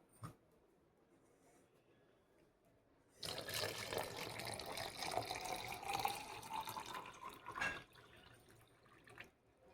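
Water pours from a home water dispenser in a steady, close stream that starts abruptly and runs for about four and a half seconds before cutting off, with a faint drip before and after.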